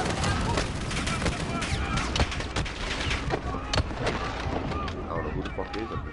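Dense gunfire in the Call of Duty: Modern Warfare (2019) campaign on hardened difficulty, with rapid overlapping shots and bursts throughout, continuous and loud, with voices mixed in.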